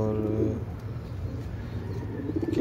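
Pigeons in a loft coo steadily in low, overlapping, throaty rolls, close by and continuous.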